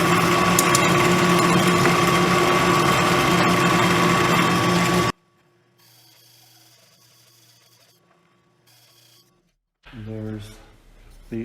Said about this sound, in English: Drilling the holes now.